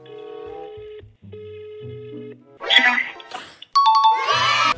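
Phone ringing in Fortnite as the player calls a girlfriend: a steady two-tone ring tone repeats in spaced bursts, then gives way to louder chiming effects and a bright, noisy game sound at the end.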